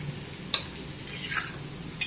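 Tinda (Indian round gourd) vegetable curry simmering on a low flame in a kadhai, giving a soft, steady sizzle with brief stirring scrapes of a spoon against the pan.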